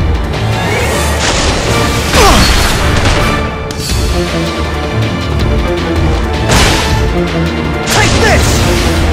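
Loud sword clashes in The Last Story video game, heavy metallic strikes and crashing impacts recurring every few seconds over a dense, roaring battle mix.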